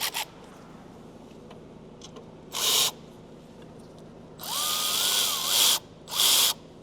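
Power tool spinning out a 10 mm bolt on a 6.0 diesel engine, three short loud bursts of whirring separated by quiet pauses, the longest in the middle, close up.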